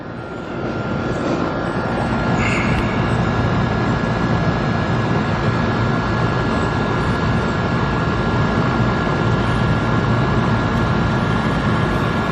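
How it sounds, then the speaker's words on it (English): A steady, loud mechanical drone with a low rumble and a thin high whine holds constant throughout, an air conditioner running close by on a 90-degree day. "the AC is running"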